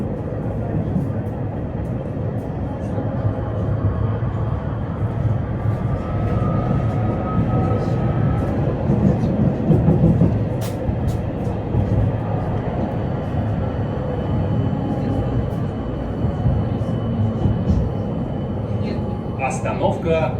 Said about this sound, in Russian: Наш трамвай следует по маршруту номер 3 до делового центра «Навигатор».